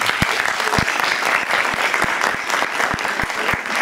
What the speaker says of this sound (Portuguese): Dá uma salva de palmas para eles de verdade